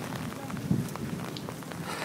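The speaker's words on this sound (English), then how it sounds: "It's raining." Steady rain falls outside a train station in Japan on a cold, cloudy day with little wind, a continuous soft hiss of drops on surfaces with no voices.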